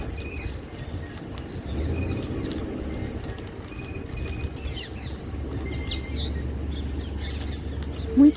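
A single loud, sharp peacock squawk right at the end, after a stretch of low background rumble and faint distant bird chirps, in Agra, India.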